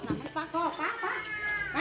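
A cat gives several short, close meows in quick succession, each with a bending, wavering pitch.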